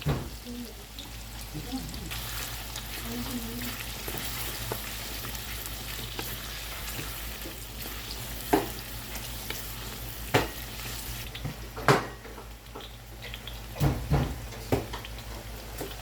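Garlic fries in a pan while preparing duck adobo in coconut milk, a continuous close sizzle under low kitchen hum, broken by several sharp clinks and scrapes from stirring near the end.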